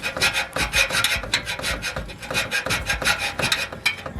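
A hand saw cuts through the muffler of an Acura Integra during a DIY muffler delete, with fast, rhythmic rasping back-and-forth strokes, close and continuous, no speech.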